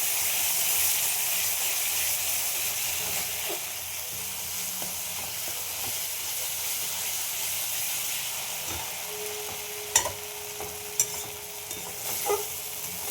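Pumpkin paste, kumror buka bata, sizzles and hisses in a pan as it cooks down dry, a steady frying sound with a few sharp utensil clinks near the end.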